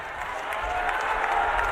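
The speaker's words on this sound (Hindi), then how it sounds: "जिता देंगे तो एक बार हाथ उठाकर ताली सब लोग बजाइए" A crowd at an election rally claps steadily, a dense wash of hand claps from many people at moderate distance.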